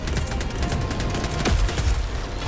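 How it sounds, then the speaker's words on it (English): A machine gun sentry firing in a bug-fighting shooter video game, a loud, continuous fusillade of rapid shots with a heavier boom partway through, filling the whole stretch. "that's a machine gun sentry"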